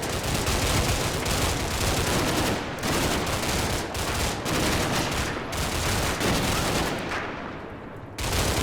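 Dense, sustained gunfire crackles from the Cold War-era wargame Combat Mission: Cold War, with overlapping rifle and machine-gun bursts rolling continuously and loudly, broken by brief lulls and dipping slightly near the end.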